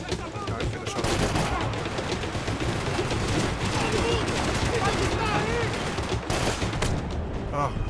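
Sustained dense gunfire in the video game Max Payne 3, continuous overlapping shots and impacts at a steady loud level throughout, with voices faintly under the din.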